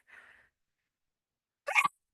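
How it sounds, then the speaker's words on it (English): A short faint inhale is followed after a pause by a single sharp, close sneeze. "Sorry, I'm going to sneeze."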